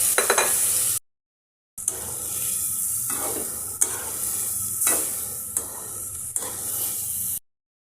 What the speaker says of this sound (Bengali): কষিয়ে নেব মুরগিটা